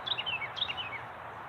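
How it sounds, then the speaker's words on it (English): Two quick bursts of small birds chirping outdoors, each a short descending run of high tweets, moderately close over a quiet background. "Those birds sound so beautiful."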